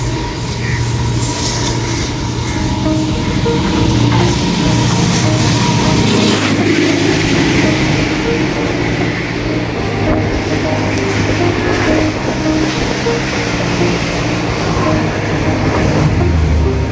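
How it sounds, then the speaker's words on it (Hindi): The Subuk Raftar express pulls into Mandra railway station in Pakistan with a loud, steady rumble of wheels on rails that carries on without a break and grows near and heavy. "सबक रफ्तार आ रही है जिसका आप नज़ारा कीजिए"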